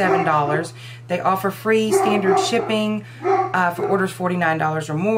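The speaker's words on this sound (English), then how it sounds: "I apologize for the dogs in the background" Several dogs bark and yip in the background, scattered beneath continuous close-up talking over a steady low hum indoors.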